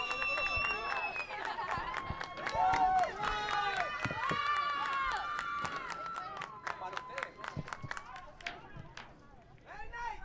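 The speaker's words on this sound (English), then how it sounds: "the crowd is getting wild." Soccer crowd at a NISA match between Sin City FC and LA Force, roaring and cheering loudly through added time, with a steady wash of noise and scattered claps and whistles under a commentator talking.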